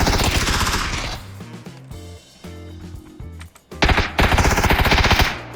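Rapid automatic gunfire in the battle royale video game PUBG, loud close bursts of fast repeating shots separated by a brief lull with scattered reports.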